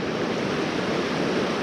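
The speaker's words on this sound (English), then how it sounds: "This water rushes so fast this way." Fast-rushing water of a West Virginia trout stream, a steady, loud broadband wash with no break and no speech over it.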